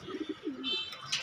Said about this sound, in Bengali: ফ্লাইং জোনের কবুতরগুলো যেগুলো দাপটিতে আছে এক নজর দেখাই